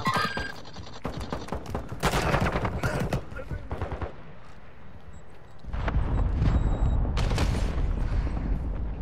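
Bursts of automatic and single gunfire ring out in Call of Duty Modern Warfare II, sharp rapid cracks in clusters with a heavier sustained volley later, while a player talks over the action.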